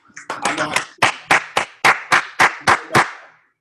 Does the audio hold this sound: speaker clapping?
yes